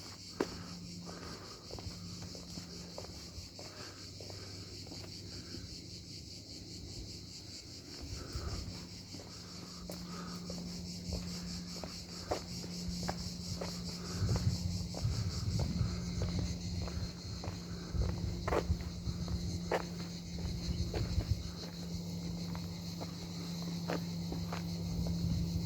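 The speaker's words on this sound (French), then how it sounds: "On entend le bruit des cigales" Cicadas drone steadily among flowers on a lazy summer holiday stroll. Their thin, continuous buzz runs throughout beneath footsteps and light wind, with no one speaking.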